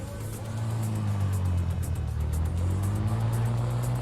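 A car in a video game drives with a steady low engine drone that swells and dips as it revs, loud and continuous throughout with no talk over it.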